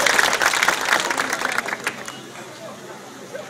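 An audience applauds for Grand Mounio at a political gathering, with dense clapping at close range that fades after a couple of seconds and leaves faint crowd murmur.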